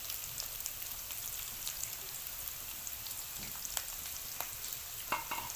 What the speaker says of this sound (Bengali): চুলার আঁচটা মিডিয়ামে রেখে ভেজে নেব।